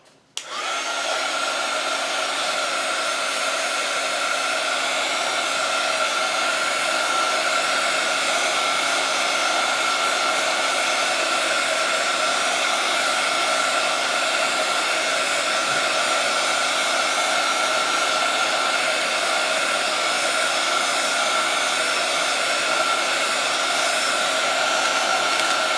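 A hair dryer blows steadily to dry a painted journaling Bible page, with a close, loud, continuous whooshing hum that switches on abruptly and runs unbroken for the whole stretch, with no talking.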